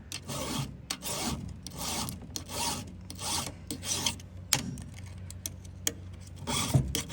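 A square-ground chainsaw chain is hand filed in rhythmic rasping sweeps, each stroke a gritty scrape followed by a brief pause, close and clear with occasional sharp ticks between strokes and no talk.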